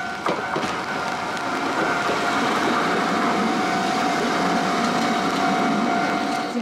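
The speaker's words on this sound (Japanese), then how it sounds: "あ、電車来た、電車来た。" A train rolls past close by at an unfenced level crossing in Kagawa, a continuous loud rumbling drone with a steady high whine running throughout.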